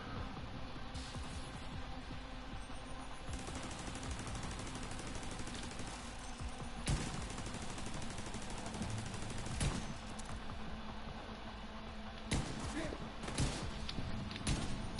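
Video game gunfire from high velocity bullets, heard as repeated sharp shots in bursts spread across the stretch, fairly faint under a steady bed of game noise and a talking voice.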